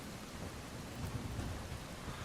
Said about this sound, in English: Look, it rained.